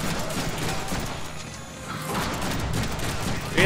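Gunfire in the Deadpool video game, a dense, steady stream of shots and crashes filling the scene, with a brief voice surfacing amid the din.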